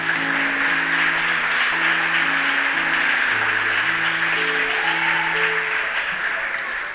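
Steady, dense applause from a crowd fills the whole stretch, holding at an even level with a faint tonal hum underneath.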